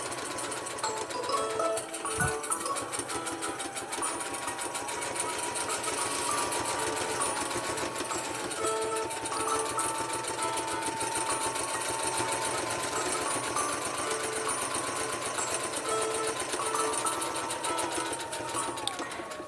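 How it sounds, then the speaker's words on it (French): A sewing machine runs continuously, loud and close, sewing a T-shirt dress, its rapid mechanical chatter steady throughout, with a brief knock early on. "je n'ai plus qu'à coudre à la machine à coudre."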